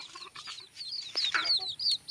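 Chickens on a poultry farm cluck and chirp in short, scattered bursts close by, with a few higher squawks toward the end.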